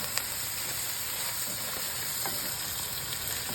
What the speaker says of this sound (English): All right, gonna give these a stir.